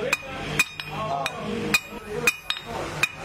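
A hammer drives a rivet through a washer into wood while a sickle is made, giving several sharp, close metallic taps at irregular intervals with faint talk between blows.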